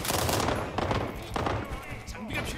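Rapid K2C1 rifle fire in the video game World War 3, with repeated sharp shots in quick bursts layered over a busy battle background, fairly quiet in the mix.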